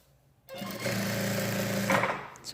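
A sewing machine topstitches a dress yoke seam at a 0.5 cm spacing. It starts abruptly and runs as a steady, close, fast whirring stitch for about two seconds, then slows and stops, with no talking.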